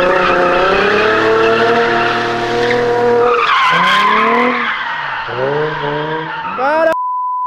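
A car launching on a São Paulo street skids hard, its tires squealing loud and close in long wavering howls over a roaring engine, ending with a short beep.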